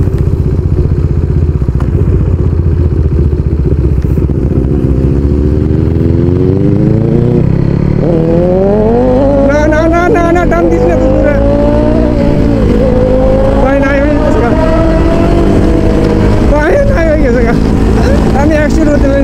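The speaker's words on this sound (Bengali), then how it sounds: "ইয়ামাহা R6 এর সাথে গাইস আজকে রাইড করতেছি" A Yamaha R6 motorcycle rides at speed, its engine roaring loudly and steadily with rising and falling revs as it accelerates. Wind rushes throughout, and a voice talks over the engine.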